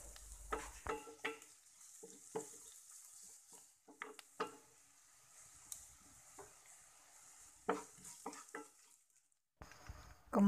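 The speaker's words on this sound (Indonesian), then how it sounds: "yang pertama kita tumis bumbu-bumbunya ya. Bawang merah dan bawang putih. Kemudian masukkan udang rebonnya." Shallots, garlic and dried shrimp sautéing in a pan, heard as a faint sizzle broken up by scattered stirring scrapes and occasional utensil knocks, with a louder clatter near the end.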